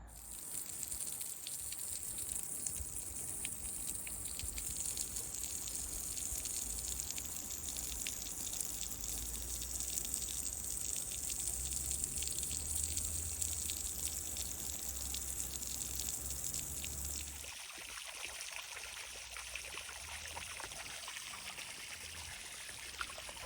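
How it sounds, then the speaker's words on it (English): Water runs steadily into a wildlife pond liner, a constant rushing trickle lasting over twenty seconds that drops slightly in level near the end, with no voices. "I'm nearly ready to start putting some water in the bottom just to start stretching all that liner out"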